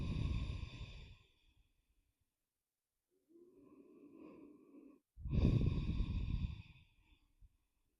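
Slow, audible breaths during a seated yoga pigeon pose: a long exhale, a pause of silence, a softer inhale, then another strong, airy exhale, all close and quiet.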